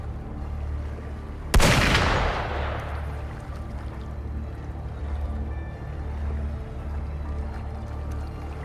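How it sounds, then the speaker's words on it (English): A single sharp, loud gunshot cracks out in the video game Wuthering Waves, followed by a long decaying boom over a low rumbling ambient drone. "Gunfire! We've got intruders."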